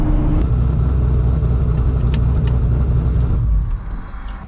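A modified car nicknamed Ratchet held against its rev limiter, a loud, close, sustained engine roar that drops off abruptly near the end, with no talking.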